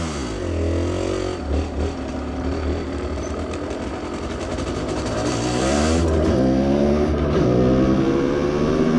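A riding Aprilia scooter's small engine drones steadily and close up throughout, its pitch rising and falling with throttle changes and a noticeable shift partway through, with no talking.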